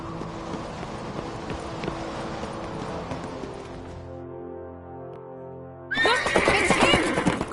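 A horse whinnies loudly in The Witcher video game, the call sliding down over several seconds, then hooves start clattering in a fast run near the end under game music.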